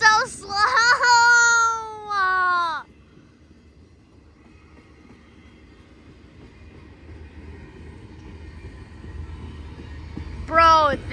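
A slow-moving CSX freight train rolls by in the cold, a low steady rumble between high wailing squeals at the start and end, likely a child's crying.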